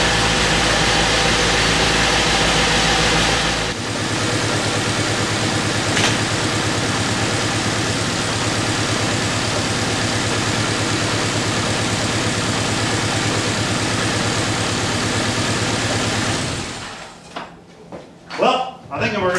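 Honda Del Sol VTEC engine idling while warming up, running slightly rough, a dense steady drone that carries on for a long stretch before cutting out into a few thuds and knocks.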